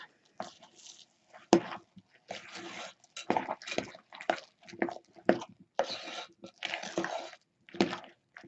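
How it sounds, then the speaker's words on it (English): Chocolate chip banana muffin batter being mixed by hand in a bowl, a series of wet squishing, scraping strokes in uneven bursts, close and fairly quiet, with brief talk. "So we're going to mix all this up."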